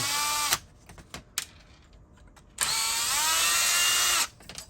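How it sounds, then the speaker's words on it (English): A power drill drives screws that cut their own threads into parts, two whirring bursts, the second longer, with quieter handling clicks in between, close by. "I just let the screws cut threads into these."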